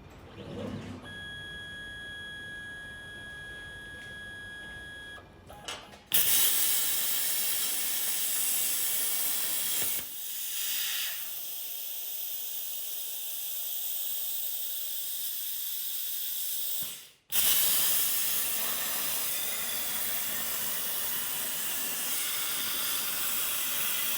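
Welding a harness bar onto a BMW E91 3 Series Touring, a steady loud crackling hiss in two long runs broken by short pauses, with a quieter electrical hum before the first run.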